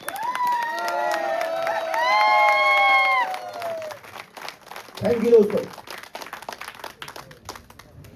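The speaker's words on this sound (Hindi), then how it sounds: "मैं चाहूंगा खड़े होकर एक बार जोर सर के लिए तालियां होनी चाहिए" An audience at a blockchain program event in Jaipur stands to cheer, whistle and clap for several seconds, then the noise gives way to someone speaking.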